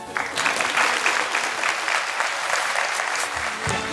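Loud, dense applause at a business school graduation ceremony as graduates receive bachelor diplomas, a continuous roar of many hands clapping close and full throughout, with a brief low thump near the end.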